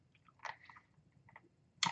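A hard candy sucked and then bitten, heard up close and faint: soft wet mouth sounds and small clicks, ending in one sharp, louder crunch.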